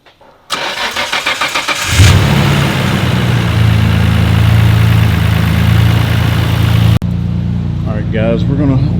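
A Nissan R32 car's engine cranks for a moment, catches loudly and settles into a steady, rumbling idle, close and loud, with brief voices faintly at the end.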